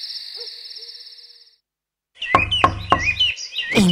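A great owl hoots in an animated children's fable about a country mouse and a city mouse, set in the countryside at night: after a brief hush, a few loud, evenly spaced hoots ring out, preceded by a thin high whistle.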